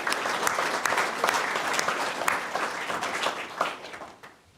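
A funeral crowd applauds steadily with dense overlapping claps for about four seconds, then the clapping thins and fades out.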